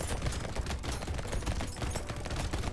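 Turrets in the video game Brotato fire in a dense, rapid stream of overlapping shots. The volleys are loud and continuous, with no pauses and no voices.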